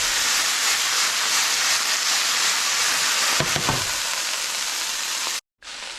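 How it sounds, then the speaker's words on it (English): Okra fries in a pan with a steady, loud sizzle and hiss that drops away briefly near the end, with no talking. "Frying the okra separately ensures it won't get mashed up and it won't become slimy."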